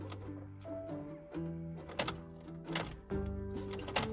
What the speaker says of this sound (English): The day that you get in your car and it makes some clicking sounds.